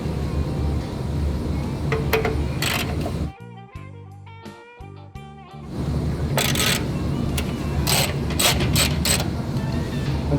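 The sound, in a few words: ratchet breaking loose bolts on a motorcycle fender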